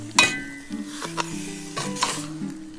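Meat stir-frying in a pan for a curry, with a soft sizzle under scraping stirs and a couple of sharp metallic clinks of utensil on pan, close and brief.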